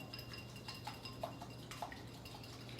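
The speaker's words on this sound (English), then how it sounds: "2 eggs. I'm just going to beat them up a little bit." Two eggs beaten in a bowl for cornbread batter, giving faint, quick, irregular clinks of utensil against bowl close by, with no talking.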